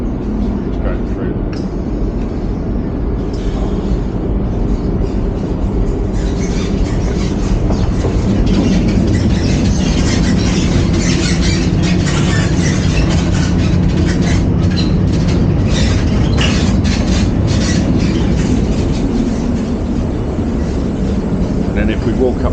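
A train runs through the Channel Tunnel beneath the English Channel, a loud, continuous rumble and roar with rail clatter heard from inside the carriage, while people talk faintly underneath.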